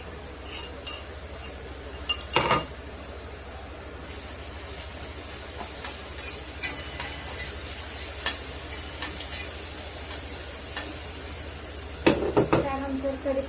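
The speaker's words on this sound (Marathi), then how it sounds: "लसूण मिरची टाकून घेते" Garlic and green chillies go into onions frying in a pan for an okra curry, giving a low steady sizzle broken by sharp clinks and scrapes of a spoon stirring against the metal pan.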